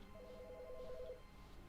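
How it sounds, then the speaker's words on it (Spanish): A telephone rings in The Stanley Parable: Ultra Deluxe, a faint steady ring tone over a constant low background hum, with no voice over it. "Oh, el teléfono. ¿Dónde está el teléfono?"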